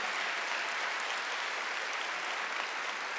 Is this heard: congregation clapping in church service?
yes